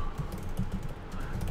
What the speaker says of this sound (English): So I suppose I am typing here